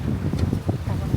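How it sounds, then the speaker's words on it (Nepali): Strong wind gusts across a hilltop campsite, buffeting the microphone in low, uneven rumbles, with voices faintly mixed into the blustering. "लास्टै हावा लागेको छ कि पुरै"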